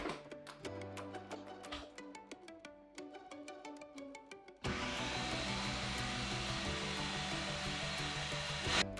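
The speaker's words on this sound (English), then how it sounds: "I put all the ingredients into my famous Ninja blender" A Ninja blender kicks on and blends chickpea brownie batter, a dense steady whir running loud for the last half after some quieter kitchen clatter and tonal sounds.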